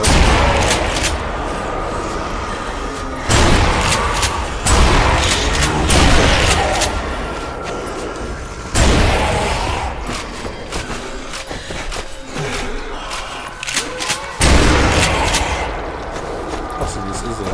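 Gunfire from a gun in the Zombie Army Trilogy video game, heard as loud, heavy shots with booming impacts, repeated at irregular intervals over a steady din, with someone talking between and over the blasts.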